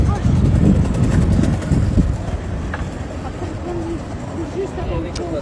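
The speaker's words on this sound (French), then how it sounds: "Un peu de vent." Wind blowing outdoors near a train journey, a loud steady rush of wind noise buffeting the microphone, strongest in the first two seconds then easing, with faint bird calls and someone talking briefly.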